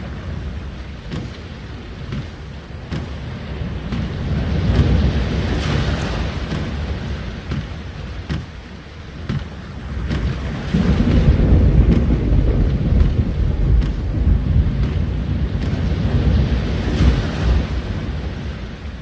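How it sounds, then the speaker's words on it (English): Storm at sea in the game The Longest Journey: loud, continuous wind and surging waves with deep rumbling swells that build and ebb, with no voices. "The storm is closing in."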